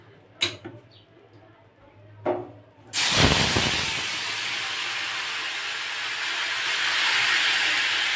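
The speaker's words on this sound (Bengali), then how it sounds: "এবার ঝোলটা আস্তে আস্তে ঢেলে দেবো।" Rohu fish curry gravy is poured into a hot kadai with a little oil; after a couple of faint knocks, a loud, sudden hiss erupts and settles into a steady, close sizzle to the end.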